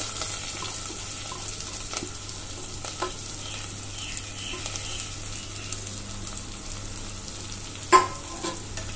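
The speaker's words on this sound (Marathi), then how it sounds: "हा मोठ्या गॅसवर परतवून घेऊया, जास्त हलवायचं नाही." Soaked rice coated with ginger, garlic and coriander sautés on a high flame, giving a steady low frying hiss with occasional stirring scrapes and one sharp clink of a utensil near the end.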